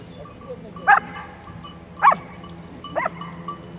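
A dog barks three times at spaced intervals, moderately loud and somewhat distant, over a low rumbling outdoor background.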